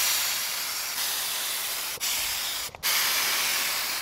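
Spray paint hisses onto a test piece in light turquoise blue outdoors, a loud continuous hissing spray with brief breaks as the nozzle is released and pressed again.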